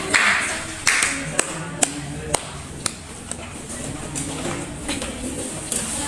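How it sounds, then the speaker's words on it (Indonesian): Scattered, sparse claps from a small group in a microteaching classroom, a few sharp separated hand claps over a background of low room noise and faint voices. "beri tepuk tangan kepada hadir yang ini"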